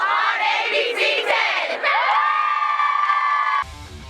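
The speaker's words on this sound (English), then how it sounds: "the Cosumnes Oaks cheerleaders take us out to break" Cosumnes Oaks cheerleaders shout and cheer loudly together at a Friday night high school football game, a sustained crowd of voices with whoops and yells before cutting out abruptly.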